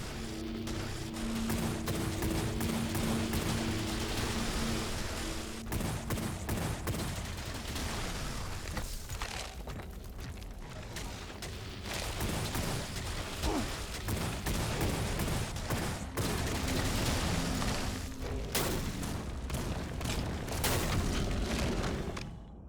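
Pistol gunfire in the video game WRATH, dense and rapid over a loud, busy combat din of booms and blasts that runs with hardly a break.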